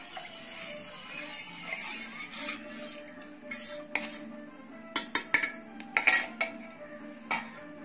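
A utensil scrapes and clinks against a pan while a beetroot halwa mixture is stirred, starting as soft rubbing and turning into a cluster of sharper metallic knocks, quiet and close.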